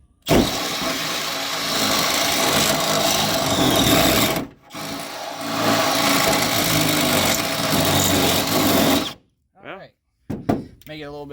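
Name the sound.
power drill enlarging hole in bus pillar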